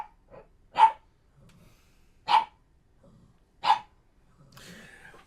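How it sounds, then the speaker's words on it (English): A dog gives three sharp, evenly spaced single barks, moderately near, with faint breathing and small noises between them in otherwise quiet surroundings. "Sorry for the barking."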